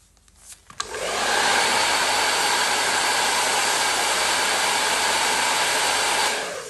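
A hair dryer switches on after a few soft handling clicks and then blows in a loud, steady, close roar for several seconds while heating a round brush during home hair styling.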